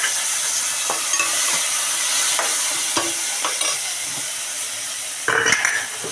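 Tomato pieces frying with onions in a pan: a bright, steady hiss of sizzling oil broken by scattered metallic clinks and scrapes of a spoon against the pan.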